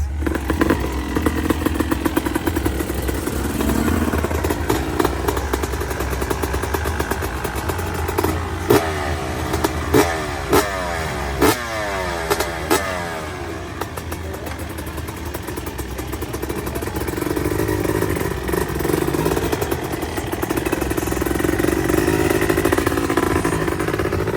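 A two-stroke motorcycle engine at a two-stroke gathering, loud and close, revving hard in rising and falling bursts with a raspy buzz, then idling and climbing again near the end.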